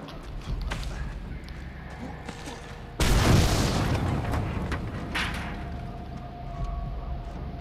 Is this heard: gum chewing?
no